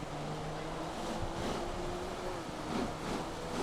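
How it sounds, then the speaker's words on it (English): Steady wet hiss of a Honda race car's tyres spraying through standing water on a flooded Donington track at night in Assetto Corsa Competizione, with a low engine drone underneath and a couple of surging swells. "beautiful sounds of water just pushed away"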